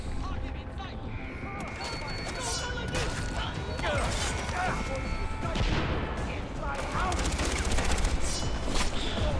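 Rapid gunfire in a video game, bursts of shots and automatic fire crackling continuously under game noise and voices.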